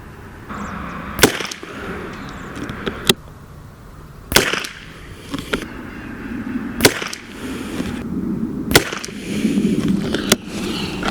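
.22LR rifle shots fired for a first cold bore group outdoors, around 50 degrees and humid: a string of sharp, loud cracks roughly every one to two seconds, with quieter background noise between them.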